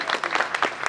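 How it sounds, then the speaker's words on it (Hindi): Audience applause at a Hindi poetry gathering (kavi sammelan) in Barabanki, a short dense burst of clapping from a crowd, close and steady throughout with no talking over it. "तो गुप्ता जी के लिए भी एक बार तालियां हो जाए।"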